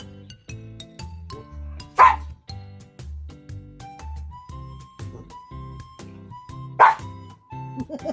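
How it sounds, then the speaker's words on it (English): A dog whines and cries in long, high, wavering tones, broken by two sharp loud barks, heard close indoors with no one speaking. "I woke up, my dog is crying."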